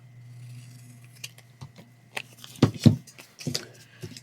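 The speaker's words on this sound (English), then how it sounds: "So I'm going to cut this one out." Paper being cut with scissors, a run of soft, close snips and crisp blade closures that grow louder toward the middle, with faint handling noise between cuts and no talk.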